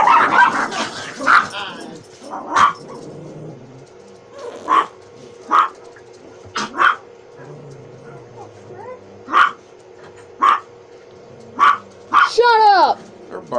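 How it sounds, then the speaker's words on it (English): A dog barks from a nearby TV, sharp single barks repeating every second or so over several seconds, ending in a short yip and whine, with faint background noise in the room. "Now there's a dog barking on that TV."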